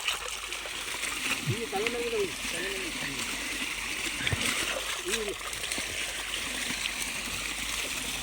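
Water is poured and splashed over cows being washed in a village yard, a continuous splashing stream with voices talking and calling over it.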